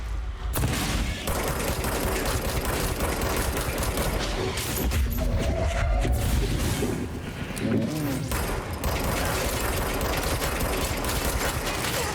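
Sustained automatic gunfire in the third-person shooter Control, a dense unbroken stream of shots layered with mechanical clatter and a voice speaking underneath.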